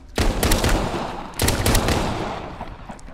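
Loud gunfire from the virtual reality zombie shooter Arizona Sunshine, two sharp bursts of rapid shots about a second apart, each followed by a fading echo, with no talking.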